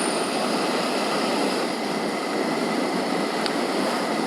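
A vehicle engine drones steadily and loudly at a constant pitch, with no talking.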